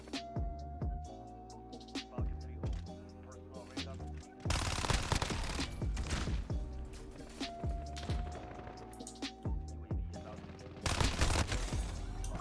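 Fennec SMG gunfire in Call of Duty Modern Warfare comes in rapid automatic bursts, two long sprays and several shorter ones, separated by footsteps and thuds, with a voice talking at times between the bursts.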